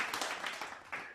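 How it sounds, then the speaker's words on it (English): Applause from a congregation at a morning devotion service, a brief burst of clapping heard on its own without voices. "Let us give her a round of applause"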